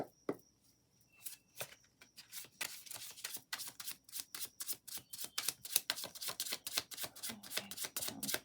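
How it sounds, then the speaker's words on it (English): Tarot cards are shuffled by hand in a rapid run of crisp riffles and flicks, close and fairly quiet, starting sparse and building into a dense, steady rhythm with no voices. "Shuffle one more time."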